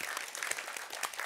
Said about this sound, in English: So a big applause to her.